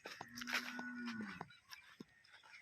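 An HF cross cow on a farm, heavily pregnant and close to calving, gives a clear, fairly close moo that rises and falls over about a second, with other soft farmyard knocks and faint calls around it and no talking.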